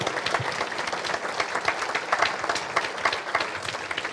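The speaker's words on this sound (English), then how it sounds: "another round of applause for the journey that they've had for this musical." An audience applauds the cast of a primary school production of Aladdin with moderately quiet, lively clapping, individual claps audible in a steady patter throughout.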